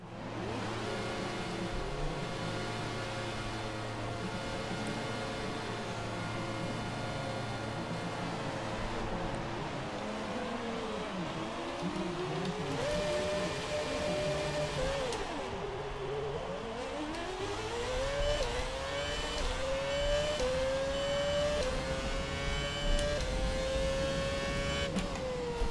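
A Haas F1 car in F1 2017 races at the Italy Grand Prix, its high-pitched engine screaming steadily and rising and falling through gear changes, with repeated upshift sweeps climbing toward the end and no talk over it.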